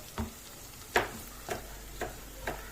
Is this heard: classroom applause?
no